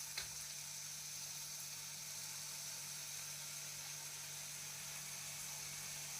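Broccoli fries in a pan for an Indian-style spicy broccoli fry, giving a quiet, even sizzle with a brief clink at the start and a low steady hum underneath, no voices.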